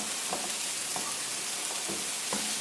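Shallot and garlic sautéing in a pan, a dense continuous sizzle with a few soft scraping stirs, close up and alone.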